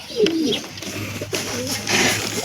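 White pigeons in a pigeon breeding box, close soft cooing calls repeated in short phrases over a faint background hum.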